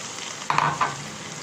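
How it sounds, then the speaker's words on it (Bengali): Half a cup of chopped onion hitting a hot pan with spices sets off a steady sizzle, with two sharp stirring scrapes near the middle, heard close and without speech. "এখন আমি পেঁয়াজ কুচি দিয়ে দিচ্ছি"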